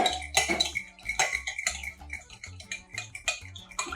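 Sugar being stirred into milk in a bowl for French toast: a spoon clinks and scrapes rapidly against the dish in busy, uneven bursts, close up and clear with no voices.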